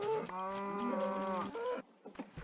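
A cow in the Minecraft video game moos once, a loud, drawn-out harmonic low call lasting over a second, followed by quieter game ambience.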